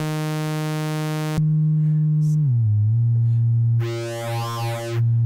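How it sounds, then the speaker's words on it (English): A buzzy synthesizer tone shifts into a pure sine hum from a MiniBrute 2 Eurorack oscillator that glides down in pitch, then turns bright and metallic as a wavefolder folds and sweeps the harmonics. "the sine wave from Oscillator 2, send it into"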